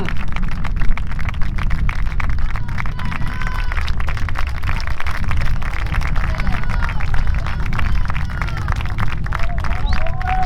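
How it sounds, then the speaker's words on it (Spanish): Crowd applause and cheering at a traineras rowing regatta in O Grove, greeting a rowing crew as it passes; a dense, steady wash of clapping and babble carries through the whole stretch with outdoor noise. "forte aplauso para a súa regata"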